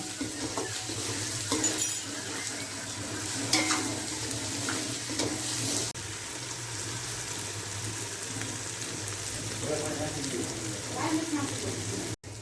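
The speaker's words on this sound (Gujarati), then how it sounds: "તેલ આવી ગયું છે, આપણે આમાં નાખી દીધું છે આદુ, મરચાં, લસણ, લીલી ડુંગળી, સૂકી ડુંગળી." Ginger, chilli, garlic, green onion and dry onion fry in hot oil with a steady, close sizzle, punctuated by occasional stirring scrapes and utensil clinks against the pan.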